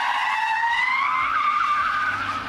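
Tires of an armored car squeal continuously during a J-turn, a loud sustained screech that rises slightly in pitch and holds steady over engine rumble before easing off.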